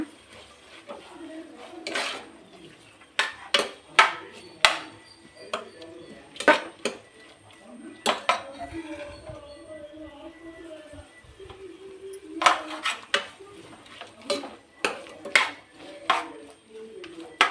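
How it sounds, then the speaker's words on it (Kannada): Palak pulao is stirred in a pan with sharp metallic scrapes and clinks that come in irregular bursts, set against a quiet kitchen background with faint talk. "ಎಲ್ಲ ಫ್ರೈ ಆಗ್ತಾ ಇದೆ."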